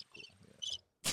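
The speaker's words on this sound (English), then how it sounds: "Crickets." A few short bursts of cricket chirps come across as a quiet, faint insect trill used as a sound effect, followed by a brief louder hiss.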